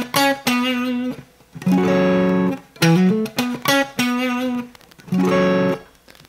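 Electric guitar plays the opening phrase of a melodic lick: several short clusters of picked notes and double-stops separated by brief pauses, clear and upfront with no voice.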